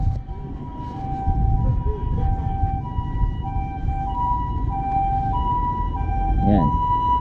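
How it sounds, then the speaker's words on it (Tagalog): An ambulance siren passes on the road, its steady wailing tones rising and shifting over several seconds, heard from a motorbike amid traffic rumble and wind noise. "Ayan guys, ambulansya."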